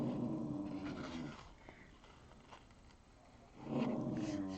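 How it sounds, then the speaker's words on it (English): Dogs sitting at a window growl at something going on in the street, producing low, rumbling growls in two bursts, close and moderately loud over a quiet room. "The dogs are sitting in the window here growling at something that's going on in the street."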